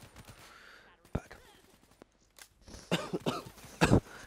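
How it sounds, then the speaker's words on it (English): A man coughs while playing Call of Duty: Black Ops III. One sharp cough comes early, then a cluster of harsh, close coughs follows a few seconds later over quiet game sounds. "Sorry, I got a bad cough."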